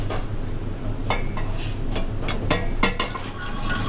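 Flour and room-temperature buttermilk being mixed into English muffin dough, giving a steady bed of stirring and scraping with scattered light clinks of metal and bowl, close and moderately loud, with no talking.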